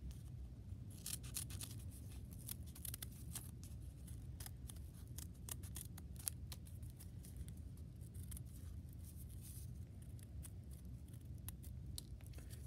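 Scissors snip through a folded paper snowflake in a quick, irregular run of small crisp cuts, quiet and close, with no voices.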